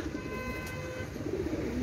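Pakistani teddy pigeons coo softly and close by, low murmuring calls repeating under a quiet background hum, with no talking.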